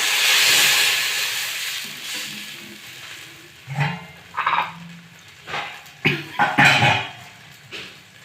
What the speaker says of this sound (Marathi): आणि आता पाणी